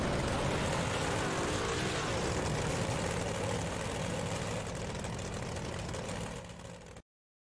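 Big block dirt modified race cars at Cedar Lake Speedway, a dense, loud engine roar with rumbling low end that holds steady, then fades slightly before cutting off abruptly.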